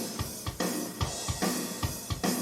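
A recorded drum kit plays through a mixing setup with the compressor bypassed, giving a loud, roomy groove of regular kick thumps and snare cracks over washy cymbals.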